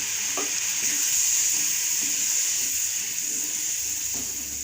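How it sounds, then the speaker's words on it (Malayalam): A pan of frying masala with chilli powder hisses steadily as hot water is poured in, a continuous close sizzle with faint scraping and no voices. "കരിഞ്ഞു പോകാതിരിക്കാനായിട്ട് കുറച്ച് വെള്ളം ഒഴിക്കാം."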